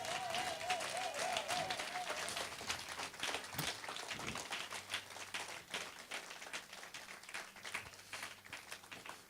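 A church congregation claps in dense, continuous applause, a fast patter of many hands that stays fairly even and gradually thins, with a brief sung or called tone near the start and scattered voices mixed in.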